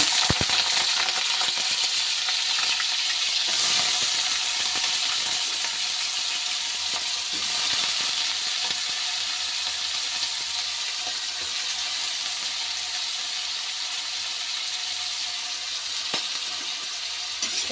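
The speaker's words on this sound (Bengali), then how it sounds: "দেখো আমার তেল গরম হয়ে গেছে। এখন আমি ঢেলে দেবো আলু।" Potatoes fry in hot oil for a potato and pea curry, a loud, even sizzle that holds steadily throughout with an occasional faint stir or clink and no speech.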